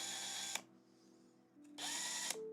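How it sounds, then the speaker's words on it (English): A power drill widens shrunken holes in 3D-printed parts for a giant Lego-style pirate figure, with two loud, steady whirring bursts and a quiet pause between them. "So we just have to prepare these holes a bit, just drill them"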